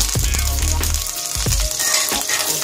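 Curry leaves and dried red chilies sizzle loudly in hot tempering oil for tomato rasam, a dense steady crackle with low stirring thumps, close to the pan.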